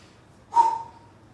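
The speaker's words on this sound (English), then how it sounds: "If you exhale very powerfully from your mouth" A single forceful exhale pushed out through the mouth during a breathing exercise, a short breathy burst that fades over about half a second, close to the microphone in a quiet room.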